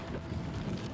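Strong wind gusts across a hilltop viewpoint in Thessaloniki, buffeting the microphone with a steady, rumbling roar for a brief moment, with no voices.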